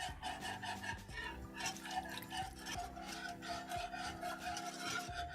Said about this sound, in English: I'm going to keep whisking so that you make sure we don't have any lumps.